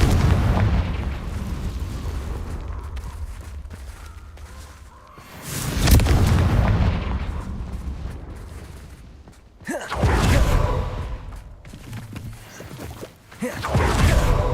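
Deep booming blasts from the Confringo fire spell in Hogwarts Legacy, heavy explosions near 6 and 10 seconds with rumbling tails, set against continuous noisy game action.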